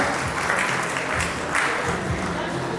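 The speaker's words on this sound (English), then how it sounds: "Please applaud them with a huge round of applause" Steady, dense applause from a large audience at a school's annual prize distribution ceremony, continuous clapping filling the hall without a break and with no clear voices over it.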